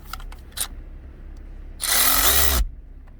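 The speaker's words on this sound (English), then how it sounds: "Let me reverse my ratchet." A ratchet tightens a nut on a clutch hydraulic part, a short burst of loud buzzy clicking lasting under a second after a few faint taps.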